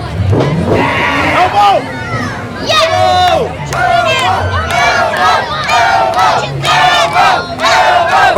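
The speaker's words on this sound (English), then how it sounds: "Crowd chanting elbow." A loud crowd chants and shouts at a Waxhaw Cup event, rhythmic voices rising and falling continuously throughout, close and dense, with wrestling-style excitement filling the space.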